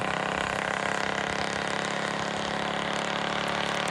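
A Black Widow go-kart engine fitted with a stage 2 kit of cam, rod and valve springs runs at a steady, loud, buzzing idle through a CVT. Nearby, no voices are heard.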